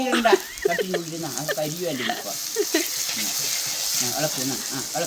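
Fish curry with curry leaves sizzling and being stirred in a pan, a steady frying hiss with scraping stirs, while voices talk over it throughout.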